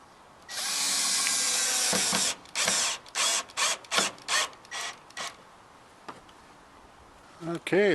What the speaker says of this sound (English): I'll run a couple of screws in.